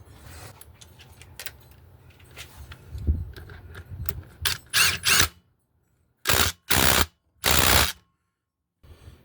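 Ratcheting clicks while threading a 14 mm bolt into a Honda 250ex engine during a rebuild: a few soft clicks first, then several loud, closely spaced bursts with brief pauses between them, close up.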